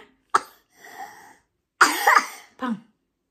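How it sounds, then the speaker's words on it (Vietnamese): A child coughs at home in a string of sharp, close coughs, with a short raspy throat sound between them and a final smaller cough, loud and clear with no talking. "con ho hả"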